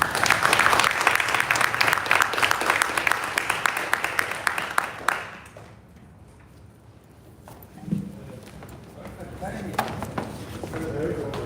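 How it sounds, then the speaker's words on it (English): An audience at a high-level dialogue at the SDG Media Zone breaks into loud, dense applause for the panel guests, fading out midway, followed by quieter room noise and a brief voice. "please, everybody, give a round of applause to our guests"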